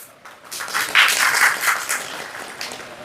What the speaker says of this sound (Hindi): तालियां तो ठोक रहे हैं।